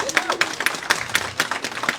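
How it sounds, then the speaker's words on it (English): Guests at an outdoor Habitat for Humanity home dedication applaud the families, a lively crowd clapping with sharp, irregular claps, while a voice talks over it. "let's give our families a round of applause"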